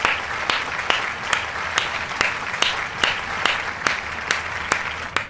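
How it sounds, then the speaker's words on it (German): In the FIFA 23 video game, a stadium crowd applauds a substitution during a Schalke 04 career-mode match, with a loud, steady wash of clapping and regular sharp accents. "Großen Applaus für Simon Terodde."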